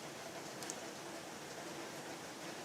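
Steady rain falling outside in Michigan, heard as a soft, even hiss that holds without a break, faint and distant, with no voices over it.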